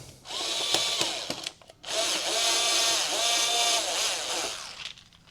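A power drill whines close by, driving a screw into the fairing of an MC22 motorcycle: one short burst, a brief pause, then a longer run with the motor pitch rising and falling as it starts and drives the screw.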